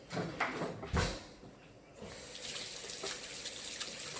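Peas are washed under a running kitchen tap: a couple of clattering knocks come first, then a steady close stream of running water fills the rest.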